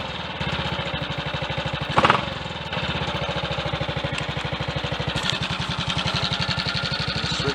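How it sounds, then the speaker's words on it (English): A Triumph Tiger Cub motorcycle engine running close by with a rapid, steady single-cylinder putter, briefly blipped once before settling back into an even, fast beat. "I'm going to rev it up, the lights brighten a little bit."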